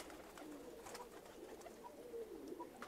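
Serbian white high-flying pigeons coo softly in short, low murmuring calls, with faint fluttering and shuffling in the loft, fairly quiet and close.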